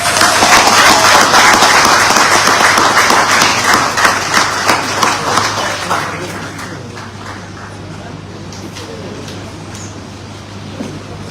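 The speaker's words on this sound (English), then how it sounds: "Let us give all our graduates a round of applause." A crowd applauds graduates at the UWI Global Campus recognition ceremony, with loud, dense, steady clapping for about six seconds before it thins and fades to scattered claps.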